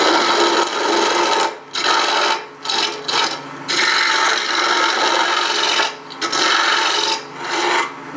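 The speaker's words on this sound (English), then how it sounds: "This is a regular planing cut" A woodturning gouge makes a planing cut on spinning wood, loud rasping shavings sound in repeated bursts separated by short pauses as the tool lifts off.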